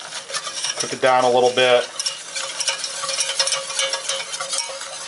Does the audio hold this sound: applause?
no